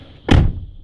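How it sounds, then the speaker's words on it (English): A car door with the child lock engaged is opened from outside, giving a single short latch clunk and thump followed by a faint second click. "Opening your door from the outside, as you can see, it will still open"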